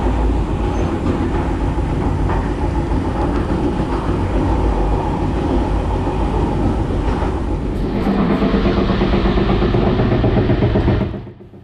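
A passenger train hauled by a Eurosprinter locomotive runs on the line between Hungary and Slovakia with a steady low rumble and a rattling rhythmic roll, growing busier and louder near the end before cutting off abruptly.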